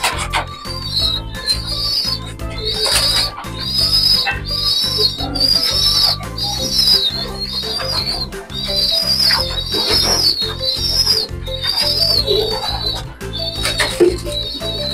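Racing pigeons in a loft make repeated high whistling calls in short bursts, with fluttering wings and a rhythmic tapping underneath, close and fairly loud.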